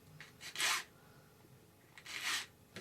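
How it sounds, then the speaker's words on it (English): A metal file rasps across a thin wire on a Fokker D.VII RC model airplane kit in two short, quiet scraping bursts separated by a pause. "And maybe we'll file it off"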